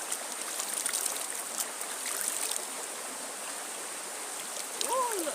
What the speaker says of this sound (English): Nice river water.